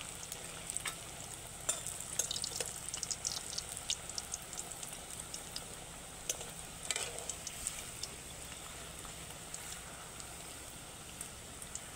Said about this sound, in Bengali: আরও যে কয়েকটা আছে একের পর এক সেগুলো দিয়ে দেব, দিয়ে ভেজে নেব।